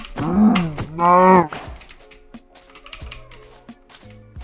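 Minecraft cows moo twice in close succession, loud and near, followed by quieter game sounds and faint clicks.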